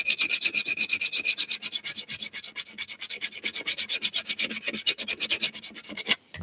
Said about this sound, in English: So I'm going to go back to little diamond lap. 240, I think, will be good enough for a lawnmower.